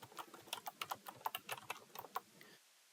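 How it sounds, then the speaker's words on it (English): Close, quick keystrokes on a computer keyboard, around a dozen irregular clicks in a short burst that stops abruptly into quiet. "So I'll just type that in."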